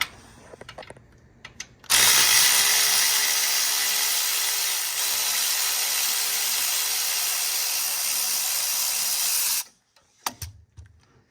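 Power tool running steadily for about eight seconds, removing a bracket bolt that holds brake lines on the rear axle of a 2007-20 Chevrolet Suburban, with a loud continuous whir and ratcheting hum that starts and stops abruptly.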